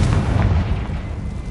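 In Hogwarts Legacy, the Confringo blasting curse goes off as a single heavy, booming explosion with a deep rumbling body that rolls on and decays across the short moment.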